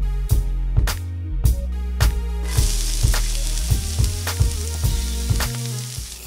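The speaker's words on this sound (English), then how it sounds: "I got the butter heating up" Butter heating in a pan gives off a steady, close hiss, punctuated by rhythmic thumping knocks that repeat roughly every half second, with no talking over it.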